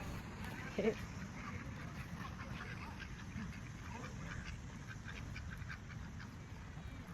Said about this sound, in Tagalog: That's the duck.